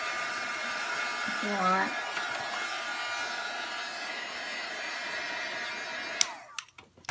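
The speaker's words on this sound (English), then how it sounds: "Now you can use a blow dryer" A steady broadband whoosh of a blow dryer runs throughout, with brief speech early on, before the noise cuts off near the end.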